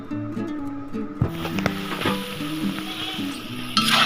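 Spices and yogurt sizzle as they are sautéed in a pan for a Bengali country-chicken egg curry, with steady frying crackle, a few louder stirring clatters and a soft hum of voices at the end.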